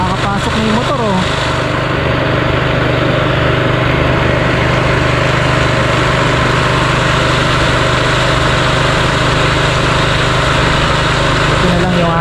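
A concrete mixer engine, freshly oil-changed, idles loud and close on a construction pour site, a steady throbbing drone with a constant low hum. Brief mechanical whirs rise near the start and end.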